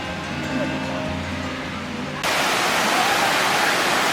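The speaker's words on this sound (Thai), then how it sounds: "ตอนนี้เราอยู่ที่น้ำตกวังก้านเหลืองนะครับ เดี๋ยวเราจะพาชมบรรยากาศของ น้ำตกนะครับผม" Wang Kan Lueang waterfall gives a steady broadband rush of falling water, which turns abruptly louder and fuller midway as the sound comes close, with faint human sounds audible earlier.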